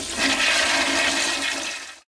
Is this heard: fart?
no